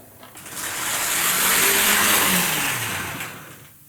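A Jouef CC 72000 model locomotive runs along its track, its motor whirring and rising to a steady mechanical hum before easing off, close and fairly loud with no talk.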